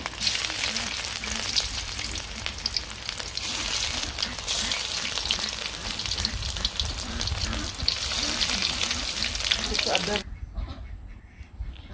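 Teasel gourd (kakrol) pieces frying in oil in a pan, a loud, steady crackling sizzle that runs throughout with someone speaking over it, then cuts off abruptly near the end.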